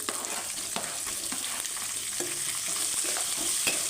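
Onion, green chili and curry leaves fry together in hot oil, a steady close sizzle with scattered crackles and light scraping of a stirring spoon, no voices.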